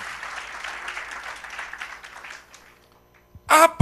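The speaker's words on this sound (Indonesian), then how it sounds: "Tepuk tangan yang lebih meriah." Scattered applause from a congregation at an Indonesian church worship service, a moderate patter that fades out over a couple of seconds before a sudden loud burst at the end.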